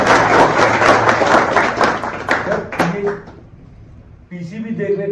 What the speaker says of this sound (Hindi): ताली बजा दीजिए सर।